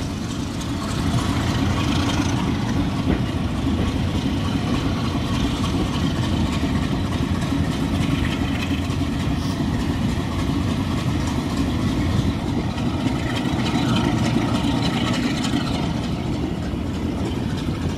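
Diesel train engine rumbling steadily as the train runs into Blue Anchor station on the West Somerset Railway, a continuous low, heavy drone held at an even loudness throughout with no voices.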